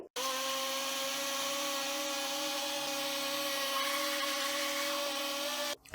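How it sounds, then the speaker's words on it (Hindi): A blender grinds green chutney with homemade yogurt in one continuous, loud, steady whir that starts abruptly and cuts off after several seconds. "अब हम बहुत अच्छे से इसको ग्राइंड कर लेंगे।"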